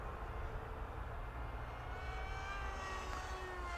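A ZOHD Talon GT Rebel RC plane cruising on its maiden flight, a thin, faint motor whine with a slowly shifting pitch, heard from a distance over wind noise.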